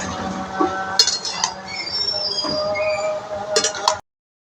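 Vegetable stems with salt, turmeric and slit green chillies are stirred in a pot, giving close scraping, squeaky rubbing and light metallic clinks of a utensil, continuous for about four seconds before stopping.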